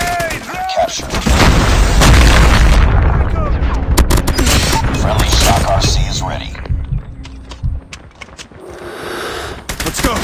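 Grenade explosion in Call of Duty Mobile, a loud close boom with a long rumbling tail, surrounded by bursts of gunfire and clicking, while voices call out during the action.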